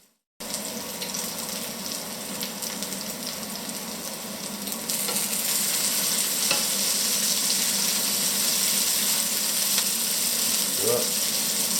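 Peppers for a ratatouille fry in a pan with a steady, loud sizzle that intensifies partway through, with occasional scraping stirs and no voices.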